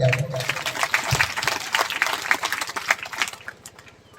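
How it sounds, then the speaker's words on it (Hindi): A church congregation claps at a worship service, a burst of applause rising quickly and continuing under a voice speaking over it. "चलिए हम जोरदार ताली बजा दें।"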